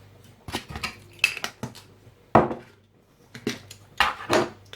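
Pepper being ground or shaken into a cottage pie mixture, producing a series of short, crisp clicks and rattling bursts close by, with no voices.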